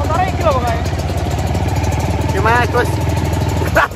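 A motorcycle engine idles and runs nearby with a steady rumble while people talk over it throughout.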